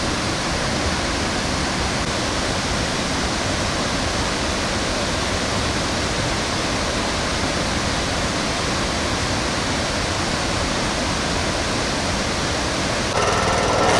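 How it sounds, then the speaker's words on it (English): Ban Gioc Falls on the Vietnam-China border roars as a steady, loud, dense wash of falling water heard from a bamboo raft on the river, unbroken throughout with no voices. "we're on our raft and we're heading up to the base of the main waterfall"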